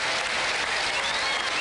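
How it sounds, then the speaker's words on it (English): Studio audience applause on a 1981 Las Vegas TV game show, a dense, steady roar of many hands clapping together, loud and continuous throughout with no talk over it. "A nice round of applause"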